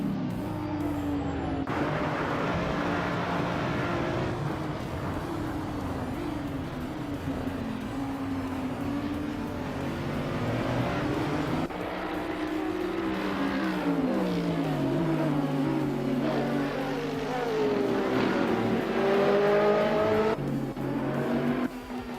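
Race car engines drone steadily through a whole race, several cars layered together with rising and falling pitch as they jostle and overtake, loud and continuous with no talk.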